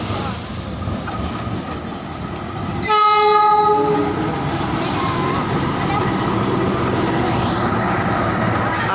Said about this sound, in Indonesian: Lokomotif CC206 Argo Merbabu Semarang Tawang Gambir.